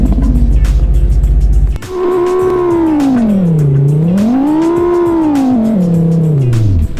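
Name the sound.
Fox Mountain Motors Vertex car with Lamborghini engine sound, video game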